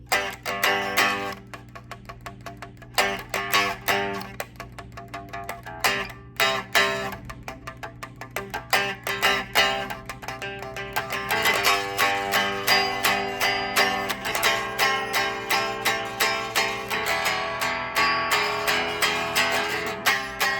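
Electric guitar with effects and distortion plays a full strummed passage from the praise song We Praise You in G, rhythmic chords ringing steadily and growing denser and louder in the second half, with no voices.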